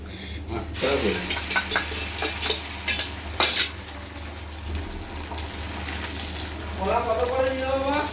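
Bread slices frying in a pan with onion and chilli, a low sizzle under repeated scraping and stirring of a utensil against the pan, with scattered clinks and people talking nearby.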